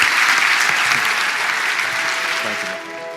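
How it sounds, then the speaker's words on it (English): A crowd applauds Alibaba's Jack Ma and Aisha after an onstage interview with President Obama, a loud, full burst of clapping that holds steady and then gently thins out. "Everybody please give Jack and Aisha a big round of applause."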